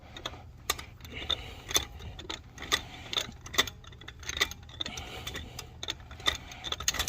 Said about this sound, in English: take your factory lug wrench here and just spin these lug nuts off lefty-loosey until they are completely off